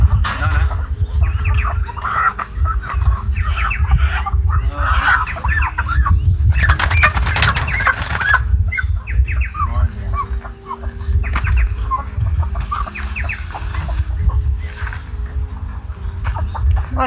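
Chickens in a new chicken tractor, blacks and browns together, cluck and squawk continuously at close range, with a rooster-like call and brief voices talking underneath.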